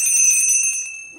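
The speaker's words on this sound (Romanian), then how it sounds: "Două clopote, două perechi de clopote foarte frumoase." Old bells hung in pairs on horses ring out with a bright metallic tone that sustains briefly and then fades, close and loud, with a faint voice at the very end.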